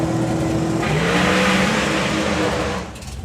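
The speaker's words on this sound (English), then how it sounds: "This is a 560 race car" A 560-cubic-inch doorslammer drag race car launches off the start line with a loud, raw engine roar that climbs in pitch as it pulls away, then drops off sharply near the end.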